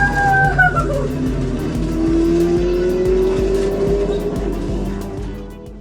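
Slot cars whine around a home track on a parade lap, their electric motors buzzing with rising and falling pitch, close and steady, with voices faintly underneath.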